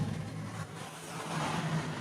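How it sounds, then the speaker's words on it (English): A car with a valved exhaust, fitted with a Stage 2 tune, emits a low, muffled engine drone that stays quiet and steady throughout, as if heard from inside the cabin. "Perks of having a valved exhaust here."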